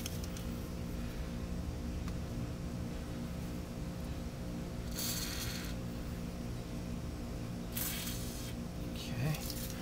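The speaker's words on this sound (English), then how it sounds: "So let's get some of this spray in there." Penetrating oil sprays from an aerosol can into the pinch-bolt area of a car's steering knuckle during ball joint removal, in two short hissing bursts, over a steady low hum of background noise.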